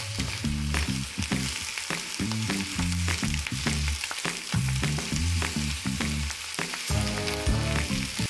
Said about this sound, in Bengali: তেল ভালো মতো গরম হলে তার মধ্যে কালো জিরে ফোড়ন দিয়ে দেবো একই সাথে কেটে রাখা কাঁচা লঙ্কা আর টমেটোটা অ্যাড করে দেবো